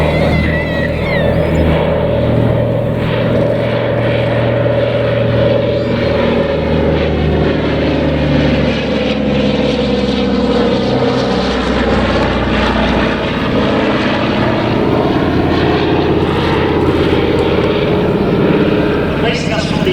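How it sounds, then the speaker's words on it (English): Radial piston engines of the Battle of Britain Memorial Flight's Douglas Dakota, a multi-engine tailwheel training aircraft at a vintage air show, drone loudly and steadily throughout with a deep propeller throb and shifting pitch as it passes. "This is their Dakota, which they have in the past used for training up their pilots in multi-engine tailwheel."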